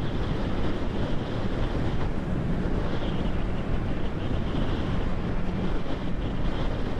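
Steady, loud wind roar buffets the microphone while riding a Honda CB650R motorcycle at speed on the Autobahn, a constant broadband rush with no voices.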